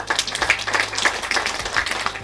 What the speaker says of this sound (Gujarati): ફિરદોસ તેમને માટે જોરદાર તાળીઓ થઈ જાય